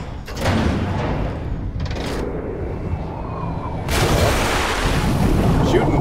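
Gunfire in the Wolfenstein II video game, several sharp, loud shots and bursts punctuating a rumbling battle background, with a heavy barrage kicking in near the end.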